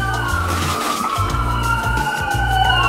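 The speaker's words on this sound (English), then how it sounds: "Listen to the sirens going by." Sirens wail in rising and falling sweeps over a steady rumble of traffic, holding at a moderate distance throughout.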